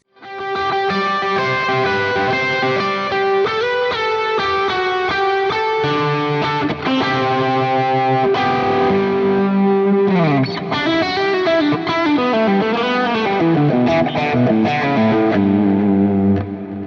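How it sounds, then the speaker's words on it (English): Overdriven electric guitar through a Fractal FM3 plays sustained worship chords and melodic lines, smeared into a lush wash by heavy reverb and echoing delay, loud and continuous. "it's all about the reverb and the delay when you're engaging drives"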